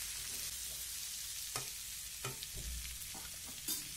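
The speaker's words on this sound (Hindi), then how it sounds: "ककोड़े को डाल के दोस्तों हमको थोड़ी देर इसको चलाते हुए भूनना है" Spiny gourd and onion are stir-fried in a pan, a low steady sizzle broken by several distinct scraping and stirring strokes of a spoon against the pan.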